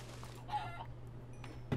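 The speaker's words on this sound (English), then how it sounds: "so that's a lot of chickens." Video game chickens give a few brief, faint clucks over a low steady hum, ending with a short, slightly louder cluck.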